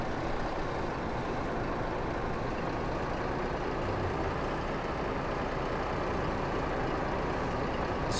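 A truck's engine idles in Euro Truck Simulator 2, a steady low rumble that holds evenly throughout with no talk over it.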